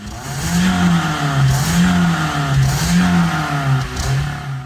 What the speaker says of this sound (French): Elle a démarré. La Corolla a fonctionné du premier coup.